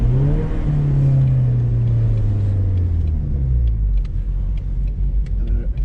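A 2020 Ford Mustang EcoBoost revs hard while being driven in the rain, the engine note climbing and then easing into a loud close rumble, with no talking.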